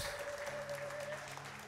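Congregation clapping and ululating in a church service, a brief burst of steady applause at moderate distance with no talk over it.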